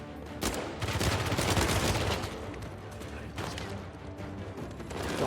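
Sustained gunfire during a firefight in Uncharted 4, dense overlapping shots and bursts at moderate loudness, continuous throughout with no talk.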